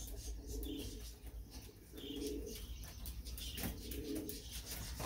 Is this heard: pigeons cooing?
yes